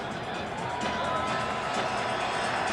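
Roaring stadium crowd at a 2001 NFL game between the 49ers and Rams, a steady wash of cheering and shouting that swells slightly partway through.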